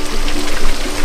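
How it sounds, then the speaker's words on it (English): Balsamic vinegar pours into a chicken adobo marinade, a short, close, continuous splashing trickle. "I'm going to add the balsamic vinegar"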